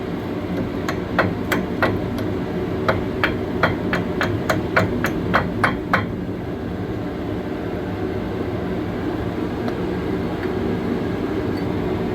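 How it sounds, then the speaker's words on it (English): About a dozen sharp metallic hammer strikes ring out in a steady rhythm over a constant mechanical drone, knocking out parts during strut and brake work on a 2006 Toyota Tacoma, then stop, leaving only the drone. "Take that hammer and knock them out."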